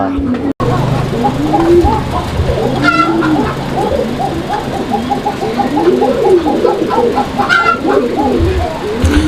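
Fancy Kokka pigeons cooing at a pigeon market, repeated soft rising-and-falling coos close by over busy background noise.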